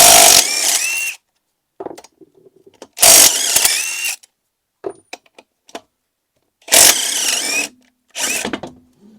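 A ratchet removing the axle bolts on a five-cylinder Mk2 GTI, heard as three loud, close bursts of rapid clicking separated by quieter metallic taps and clinks, with no talking.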